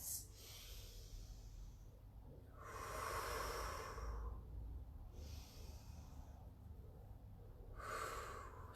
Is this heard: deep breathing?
yes